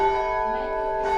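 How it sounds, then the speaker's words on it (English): The historic Swan Bells in Perth's bell tower ring out with a single sustained, loud metallic tone that hums and slowly decays, heard close and clear with no talking. "did the ringing of the bell here in Swan River."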